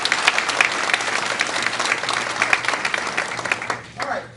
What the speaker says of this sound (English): That's a round of applause for technology and these teachers.